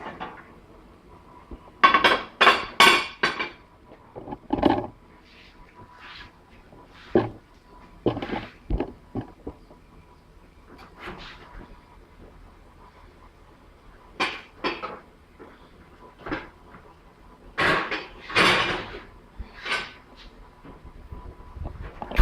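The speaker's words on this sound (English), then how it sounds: "we'll then put the lid back on and put them in the oven for 10 minutes" Lid set back onto a dish of yams and the dish slid into an oven: a string of close ceramic and metal clinks, knocks and clatters in separate bursts with quiet gaps between.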